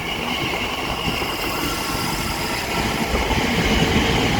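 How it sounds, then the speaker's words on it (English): Elizabeth line train 345039 pulling away on the Great Eastern Main Line, a continuous rumbling electric-train drone with wheel noise that gradually grows louder, heard alone. "Next train out to depart will be 345039, working the 1538 Elizabeth line service from Shenfield through to Heathrow Terminal 5."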